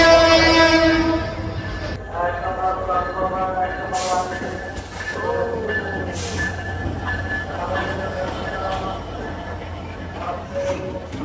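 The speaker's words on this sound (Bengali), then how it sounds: "ট্রেনটি রাত 11টা 30 মিনিটে বিমানবন্দর রেল স্টেশন এসে পৌঁছায়" The Upaban Express train pulls into the airport railway station at night, a loud horn at the start, then rumbling wheels and carriage noise continue under people talking on the platform.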